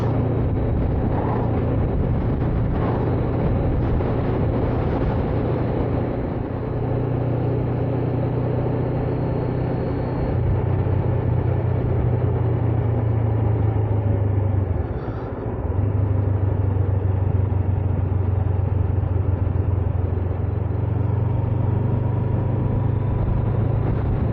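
Heavy lorries pass close on a road during a windy bike ride, a loud continuous low engine rumble that swells and dips as vehicles go by, with wind noise underneath and no voices.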